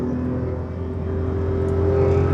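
The 1.0-litre engine of a 2011 Toyota Yaris drones steadily at around 6000 rpm, a constant buzzing hum that swells slightly toward the end, with no voices.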